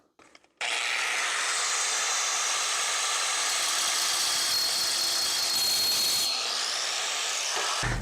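Steel roll bar tubing being cut by a power tool, a steady loud grinding whine running unbroken for about seven seconds after a brief start, then stopping abruptly, with no talking.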